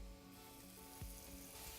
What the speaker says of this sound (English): when I now add this fish, I should get a definite sizzle.